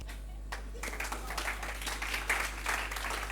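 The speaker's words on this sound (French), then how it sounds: "Applaudissez très très fort pour eux." An audience applauds students at a lycée trophy event, a short burst of clapping at moderate-to-faint level with a low steady hum underneath.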